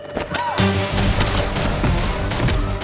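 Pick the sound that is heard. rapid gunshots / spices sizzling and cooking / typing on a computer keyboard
rapid gunshots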